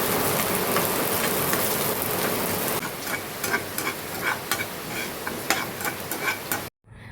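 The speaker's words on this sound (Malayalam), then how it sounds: "നമുക്ക് നട്ട്സ് ഒന്ന് വറുത്തെടുക്കാം." Nuts roast in ghee in a pan on a gas stove with a soft, crackling sizzle and light ticking clicks from stirring. The sound stays fairly quiet and cuts off abruptly at the end.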